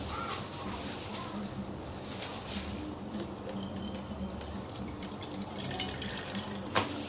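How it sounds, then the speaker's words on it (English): Herbal hair-growth liquid trickles through a sieve, a faint steady pour with soft splashing and a few drips, quiet and close. "So I'm going to sieve this one more time."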